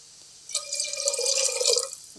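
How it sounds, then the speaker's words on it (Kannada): A little water poured into a pot of chicken soup, a short trickling, splashing pour of about two seconds, close and fairly soft. "ನಾನೊಂದು ಚೂರು ನೀರು ಕೊಟ್ಟುವೇನ."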